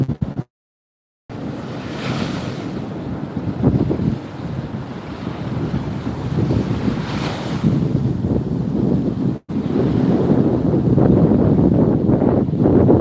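Strong wind on Navarre Beach, Florida, buffets the microphone in a roaring, continuous rush, with surf-like noise beneath and brief dropouts.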